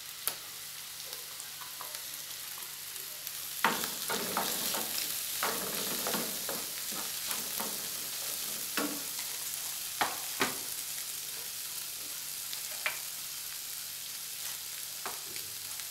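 Onion and olives frying in a pan give a soft, continuous sizzle, broken by scattered scraping and clicking as a spoon stirs through them; no voices.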